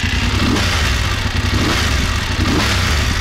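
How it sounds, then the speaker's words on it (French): A BMW F850 GS twin-cylinder motorcycle engine revs loudly and steadily up close, a continuous throaty roar with slight rises in pitch. "d'écouter un petit peu la sonorité de ce bicylindre"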